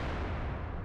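Artillery salvos roar in World of Tanks gameplay, a dense, continuous rumbling blast filling the short stretch at full, steady loudness with no voices.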